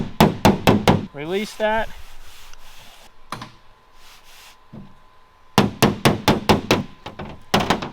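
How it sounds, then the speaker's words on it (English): Metal taps from a hammer and stud puller working a dent out of a Jeep Wrangler body panel come as quick, sharp bursts at the start and end, with a person briefly speaking and a short pull in between. "We're gonna attach our stud puller to the lows, and we're gonna tap down our highs."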